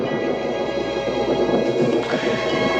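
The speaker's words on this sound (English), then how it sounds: "Storm's passing." Low, continuous thunder from a passing storm rolls on without a break, loud and close, with a rain-like hiss over it and no voices.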